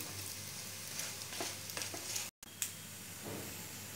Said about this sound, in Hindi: मसाला के साथ और पाँच मिनट फ्राई कर लूँगी